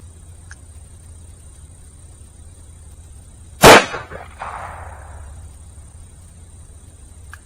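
A single .44 Magnum gunshot from a 225-grain FTX reload over 14 grains of Accurate 9 cracks sharply outdoors, followed by a softer echoing tail and quiet surroundings.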